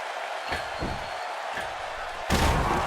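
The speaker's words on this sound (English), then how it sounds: "This crowd going crazy for Stone Cold Steve Austin, who wants to go to WrestleMania." Wrestling crowd noise in the WWE 2K video game, a steady, dense roar of a large arena audience with a few impact thuds, rising louder near the end.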